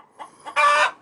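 A chicken clucks: two short soft calls followed by one louder, drawn-out squawk, close and alone with no talk.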